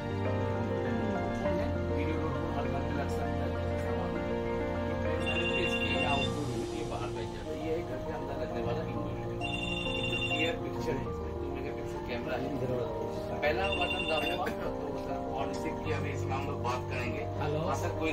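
A door phone rings with an incoming call, a bright electronic ring repeating in short bursts at regular intervals over a steady background, while a person talks throughout.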